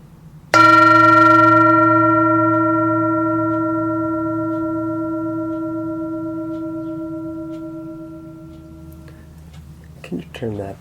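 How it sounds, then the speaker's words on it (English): A Buddhist meditation bell struck once during a Sunday morning sangha service, ringing with a bright metallic tone that decays slowly over about nine seconds before a voice speaks. "I'm going to invite the bell to sound one more time."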